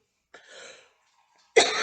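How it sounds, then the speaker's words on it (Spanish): A single close cough from a woman, a short rough burst, then silence and a loud sharp second onset that cuts off at the end, with no talk. "Perdón por la tos."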